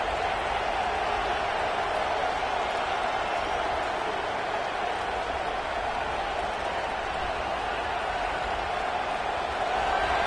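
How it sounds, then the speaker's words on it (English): A football stadium crowd roars at full volume, a dense, steady wall of cheering and applause that holds without a break from start to finish. "This crowd, full throat, spreading the eardrums and letting them know it's going to be a long day."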